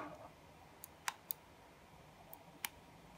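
A microSD card pushed into the slot of a turret dome camera, giving a few small, sharp clicks spaced over a few seconds against quiet background.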